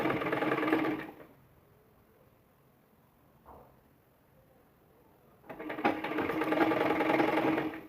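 Sewing machine stitching piping onto a blouse, two bursts of rapid whirring stitching separated by a quiet pause with a small click, close and clear.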